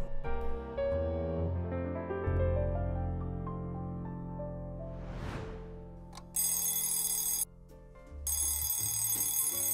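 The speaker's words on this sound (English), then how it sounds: "Your alarm's going off." An alarm clock rings in loud, harsh bursts over music in a home at waking time, the bell cutting in twice near the end with a short gap between.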